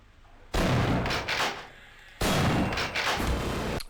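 Two heavy shotgun blasts in the video game Half-Life: Source, each a loud sudden boom followed by rumbling tail and smaller impact thuds, spaced about two seconds apart.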